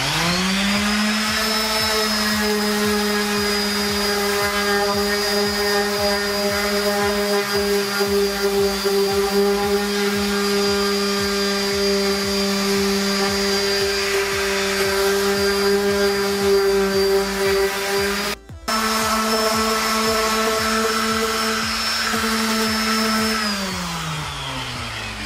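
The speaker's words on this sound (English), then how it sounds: "We're gonna sand it now." A power sander working body filler on a cracked car bumper with 120-grit sandpaper, producing a loud, steady motor whine that runs almost continuously, with one brief dropout before it winds down.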